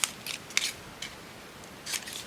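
Scissors snip paper while a journal spot is trimmed for a pull-out journaling craft, giving several short, close, crisp cuts with quiet gaps between them.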